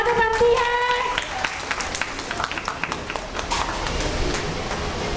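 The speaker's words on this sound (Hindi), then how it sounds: "वाह, तालियां तो बनती है।" Applause breaks out from a group of participants at a Montessori teacher-training session, with scattered claps running several seconds and a voice heard talking over the start.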